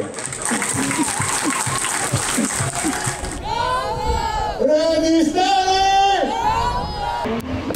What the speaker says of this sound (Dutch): Een applaus voor de vrije school.